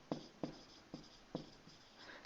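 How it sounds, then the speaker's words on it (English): A pen writes on paper in short, faint scratching strokes, four or five quick taps and scribbles close to the mic, with no voice over them. "So I should write that."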